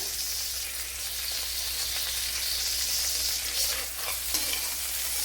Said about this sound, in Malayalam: ഇനി കുറച്ച് കറി ലീവ്സ് ഇട്ട് കൊടുക്കാം